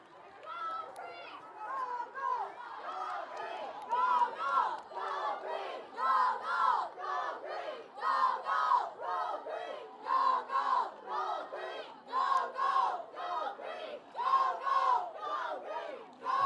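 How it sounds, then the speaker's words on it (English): A high school student section cheers at a varsity football game against Roscommon, chanting rhythmically in loud repeated bursts of shouted voices with brief pauses between. "Student section looking to cheer it up here."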